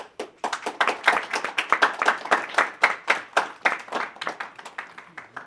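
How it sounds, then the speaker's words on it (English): Audience applause for two presenters taking the stage at a school mental-health talk, a dense run of many hands clapping at close range that holds steady for several seconds and thins slightly toward the end. "let's give a round of applause to Andrea and Olivia"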